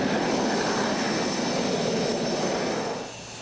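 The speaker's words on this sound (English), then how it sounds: "Having 37-ton planes take off and land in a span of 310 feet" Jet aircraft of about 37 tons roar on an aircraft carrier flight deck, a loud, dense, steady engine rush that falls off sharply near the end.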